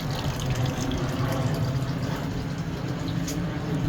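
Water running through a downspout hydroponic pipe setup inside a greenhouse, a steady close flowing and trickling wash that holds even for the whole stretch.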